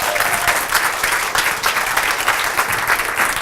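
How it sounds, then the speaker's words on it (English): An audience at an accessibility meetup gives the speakers a round of applause, a sustained, close, full burst of many hands clapping together with no talk over it. "Huge round of applause."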